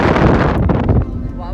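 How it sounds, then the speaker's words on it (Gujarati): Strong wind after rain, with a storm coming on, roars and buffets close against the microphone in a loud, rumbling gust that eases after about a second, while a voice is faintly heard underneath. "વરસાદ રહી ગયો છે ને ફૂલ પવન ચાલુ થઈ ગયો છે"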